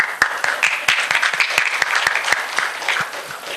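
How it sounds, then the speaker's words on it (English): Scattered hand clapping from a small audience at an Awakening the Dreamer event in Hyderabad, October 2012: sharp, separate claps close by in a loose, uneven rhythm over a quiet room. "I want to clap"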